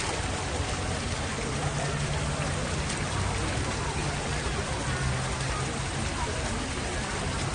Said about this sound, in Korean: 물소리 담아가야지.